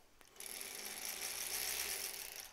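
A sewing machine runs steadily, sewing a fabric face mask with fabric ties, its fast mechanical whirring hum close and continuous, with no talk.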